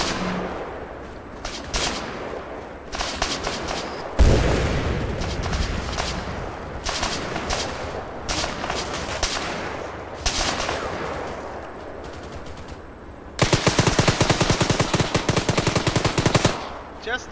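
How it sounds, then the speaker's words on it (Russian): A BTR armored vehicle in a military video game fires its machine gun in long rattling bursts, with heavy booming impacts and a dense sustained volley near the end; a voice speaks faintly underneath. "Стрелял БТР, найди его"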